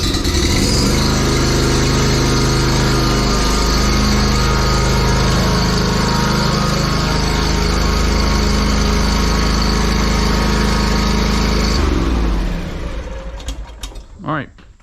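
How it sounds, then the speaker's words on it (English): A Hustler 48-inch Trimstar lawn mower engine runs loud and close with a steady roar and mechanical whine, then winds down and cuts off near the end, leaving a few faint clicks. "I'm gonna move the mower outside"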